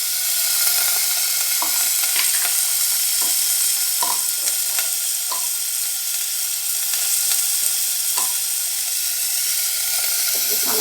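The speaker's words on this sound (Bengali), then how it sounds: "এটা নেড়ে চেড়ে নিচ্ছি।" Food fries in a pan seasoned with salt and turmeric, a steady loud sizzle and hiss running throughout while a spoon scrapes and taps in irregular stirring strokes close by.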